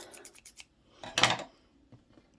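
Scissors snip a short yarn tail at a knitting machine, a quiet close metallic cut with a brief rustle, preceded by faint light clicks and handling noises.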